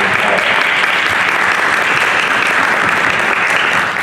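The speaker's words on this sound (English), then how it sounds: "Graduates, let's turn and give them a round of applause." Loud, sustained applause fills a hooding ceremony hall as the audience honours graduates' family members, dense steady clapping throughout with no break.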